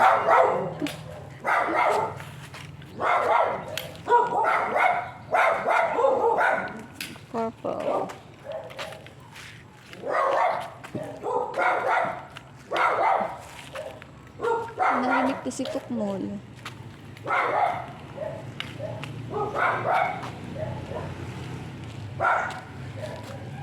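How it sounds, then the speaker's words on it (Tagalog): A small dog barks over and over in quick, insistent bursts close by, with yips and whines mixed in, while people talk around it. "Talagang pilit niyang tumahol ng tumahol."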